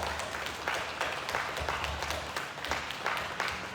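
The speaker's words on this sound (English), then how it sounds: "So let's clap for one another." A workshop group on nervous system regulation claps for one another, giving a soft, steady patter of many hands at a distance that lasts a few seconds.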